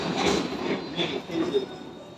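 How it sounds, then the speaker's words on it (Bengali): Stepping aboard an electric train at a station: a low rumbling rail hum with scattered metallic squeals and faint voices in the background. "গাইস, আমি এখন উঠছি ইলেকট্রিক ট্রেন দিয়ে"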